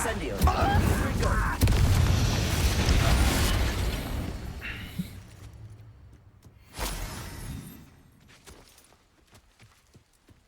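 A Confringo blast spell explodes in the Hogwarts Legacy video game, a booming burst amid loud continuous battle noise, followed by a fading rumble and quieter debris sounds.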